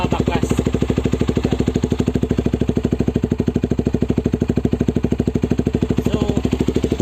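Motorcycle fitted with a long exhaust pipe idles close by in a steady, even, loud low putter, alone without talk.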